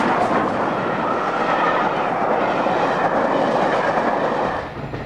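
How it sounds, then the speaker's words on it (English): Loud, steady rumble and rattle of the Flying Scotsman steam locomotive train running along the track, continuous roar with faint rhythmic clatter, close by. "I think it's great to be able to travel on a train like this, the Flying Scotsman"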